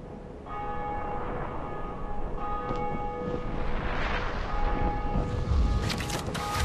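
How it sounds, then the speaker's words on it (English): Bells of Awakening ringing in the video game Dark Souls, with sustained bell tones over a dense rumbling backdrop that builds louder toward the end. "So, true to their name, the Bells of Awakening woke up that giant"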